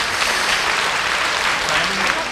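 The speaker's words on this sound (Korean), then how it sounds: "네, 여러분 다시 한번 큰 박수 주시기 바랍니다." A crowd claps steadily in loud, dense applause that fills the whole moment without a break, at the 2005 Manhunt International world final male model pageant.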